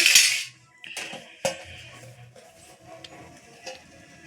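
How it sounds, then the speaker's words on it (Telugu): A lid clanks down onto a pot of chicken curry with a bright metallic clatter, followed by a couple of smaller clinks and light kitchen rattles, close and fairly loud, with no talking. "మూత వేసుకుందామండి."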